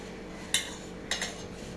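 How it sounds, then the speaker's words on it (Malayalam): Two quick metallic spoon clinks against a pan while chili powder, crushed garlic and ground pepper are stirred for prawn fry, sharp and close over a quiet background. "ഞാനൊരു രണ്ട് സ്പൂൺ മുളക് പൊടി ചേർത്തിട്ടുണ്ട് ഇനി അതിൻ്റെ കൂടെ കുറച്ച് വെളുത്തുള്ളി ചതച്ചത് കുരുമുളക് പൊടിച്ചത് ഇത്രയും ചേർത്ത് ഇളക്കുകയാണ്"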